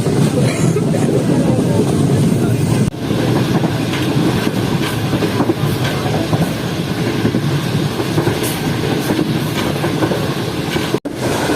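The Karakoram Express rolls along the rails between Karachi and Lahore, a loud continuous rumble with rhythmic wheel clatter heard from inside the carriage.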